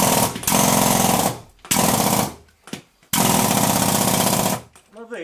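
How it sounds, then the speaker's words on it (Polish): Air-powered pneumatic hammer in a mine, hammering in three long, loud, rapid bursts separated by short pauses, close and harsh with a hollow echo. "Następne urządzenie to jest młot."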